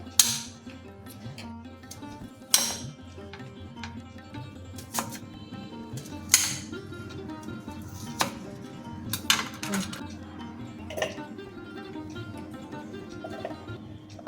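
A knife chops an onion on a board at a slow, uneven pace, each sharp close knock set against faint kitchen clatter, with no speech.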